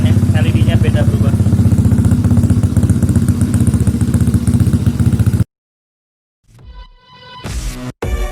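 A loud fuel-injected Yamaha Mio motorcycle engine runs steadily for several seconds, cuts out abruptly, then sputters and revs back up in short bursts during ECU timing setup.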